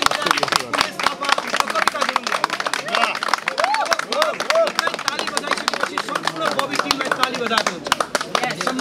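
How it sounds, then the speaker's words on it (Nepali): An audience clapping at a film success party, dense fast applause with overlapping claps and crowd noise, loud and close, with voices mixed in. "एकचोटि जोरदार ताली तिन व्यक्तिको"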